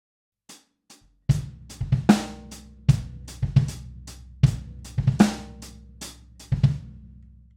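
A funk drum groove with punchy kick and snare hits and crisp cymbal accents in a tight syncopated pattern, close and clear with no talking.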